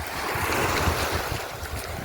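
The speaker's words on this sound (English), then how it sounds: "Look at these waves." Surf waves washing onto a beach in Cumbria, a steady broad roar of breaking water mixed with wind buffeting the microphone, loud and continuous with no voices.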